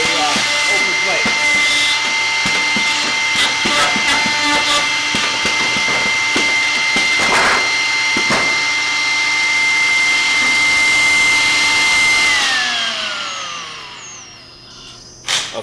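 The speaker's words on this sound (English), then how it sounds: "I'm going to hit the clamp button, and it's going to do a open plate" A 960-3 machine runs a steady mechanical whine and hum with intermittent clunks while clamping an open plate, then winds down near the end with a final knock.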